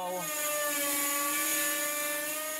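A small, ultra-light insect-inspired flying drone hovers close by, its rotors giving a steady high-pitched whine with strong harmonic tones that hold evenly throughout, alone without talk.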